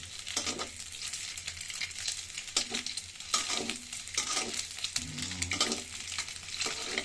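Eggs sizzling in a pan for egg bhuna, a continuous crackling fry broken up by repeated scraping stir strokes, close and moderately loud, without talk.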